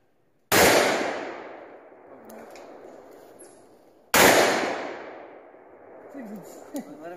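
Two very loud, close .44 Magnum shots from a Taurus Tracker revolver fired outdoors, each a sharp crack with a long rolling echo, spaced a few seconds apart, with a shout after the second.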